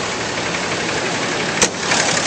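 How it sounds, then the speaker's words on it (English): Engine of a 2011 Dodge Ram 2500 pickup truck running steadily, a continuous close mechanical drone with one brief click partway through and no talking. "Start this truck up and take a look underneath the engine."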